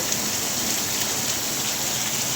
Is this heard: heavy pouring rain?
yes